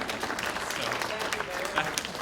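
Applause from a room of attendees at a civic forum, a loose scattered clatter of clapping with voices mixed in over it.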